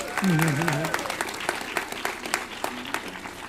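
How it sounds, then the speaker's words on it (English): An audience at a game awards show applauds Jordan Miner with a moderate round of clapping, while a voice speaks over the opening moments. "round of applause for Jordan"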